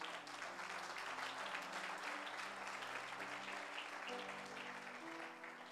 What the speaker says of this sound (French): Est-ce que nous pouvons acclamer la parole de Dieu?